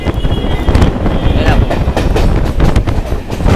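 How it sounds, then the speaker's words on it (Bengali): A local train pulls out of Dakshineswar station on the Sealdah–Dankuni line, a loud, continuous rumble of wheels and carriages with wind buffeting the microphone throughout. "ছেড়ে দিল আমাদের ট্রেনটি দক্ষিণেশ্বর স্টেশন থেকে"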